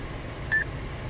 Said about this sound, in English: press this button, wait for the beep